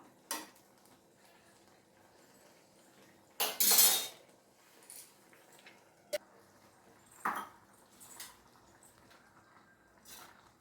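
A metal lid set back on a pot of chukka kura tomato curry, one loud clattering clank midway among lighter scattered taps and clinks of utensils, with quiet gaps between.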